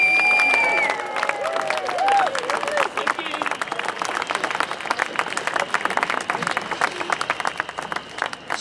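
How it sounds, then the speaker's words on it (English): Crowd at a Scottish independence gathering clapping for Marlene Halliday, sustained applause with some cheering and whistles near the start, steady and fairly loud throughout. "give a massive round of applause for Marlene Halliday"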